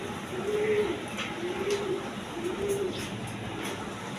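Pigeons coo in repeated low, rolling phrases, three or four calls spaced evenly over a constant background hiss.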